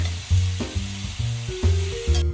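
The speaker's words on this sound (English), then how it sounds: "Sear three pounds of boneless beef chuck." Three pounds of boneless beef chuck sears in a pan for beef bourguignon, giving a steady sizzle with stirring and scraping sounds that swell and ease in a loose rhythm, close up with no talking.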